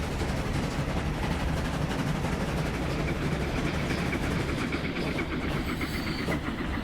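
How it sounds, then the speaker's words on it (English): A train in the railway simulation game Transport Fever 2 rumbles along with a continuous clattering roll of wheels on track that stays steady and fairly loud throughout. "There's another train."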